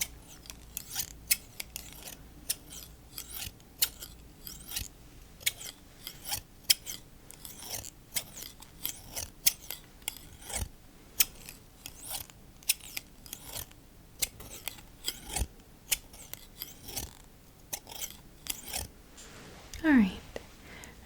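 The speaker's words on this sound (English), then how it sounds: "it can kind of feel like it based on how close the scissors are to your ears" Scissors snip again and again very close to the ears in a soft-spoken ASMR sleep clinic roleplay, crisp irregular cuts over a quiet background, with a brief rustle near the end.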